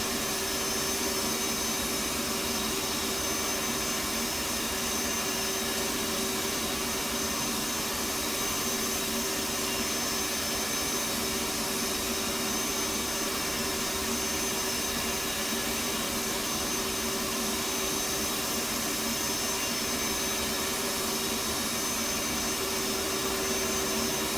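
An F/A-18C jet engine runs in the DCS flight simulator, a loud, steady, unbroken turbine whine and roar with a sustained tonal hum, close and alone throughout.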